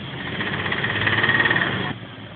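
A 1929 vintage vehicle with a 998 cc engine running at idle, a steady close mechanical drone with a faint rapid pulsing that drops off sharply near the end.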